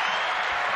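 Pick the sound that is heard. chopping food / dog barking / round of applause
round of applause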